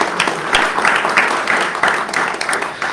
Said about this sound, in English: Give them a round of applause for coming out tonight